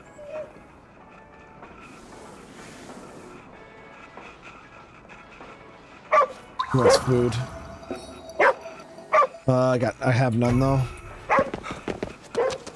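A dog barks in the video game Ghostwire Tokyo with several loud, close yips and whimpering barks in the second half, after someone talks over quieter game sounds.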